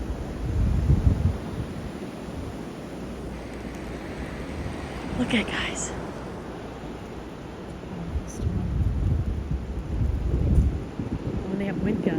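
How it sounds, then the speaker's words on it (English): Strong wind roars and buffets the microphone in heavy gusts during a blizzard, rising and falling, while a person speaks briefly over the rushing noise. "Look at the wind, guys. It's crazy."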